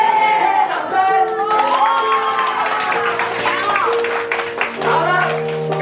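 A crowd of adults and children at a family interactive day event bursts into clapping and cheering, with shouts and whoops mixed into loud, sustained applause close by.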